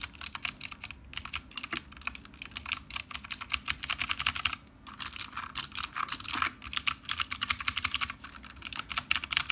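Rapid, crisp clicking of a mechanical keyboard with clicky blue switches, keys struck in quick uneven runs with a short pause midway.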